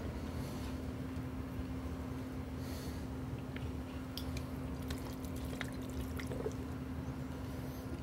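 Running water rinses a circuit board after soldering, washing the flux away as a steady wet wash with scattered drips and splashes.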